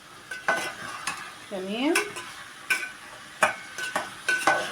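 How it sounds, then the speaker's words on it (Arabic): Minced meat and zucchini stir-fried together in a pan, with a stirring utensil scraping and clacking in repeated bursts over a soft sizzle; a voice speaks briefly once. "هشوحها هي اللحمه والكوسه مع بعضيهم."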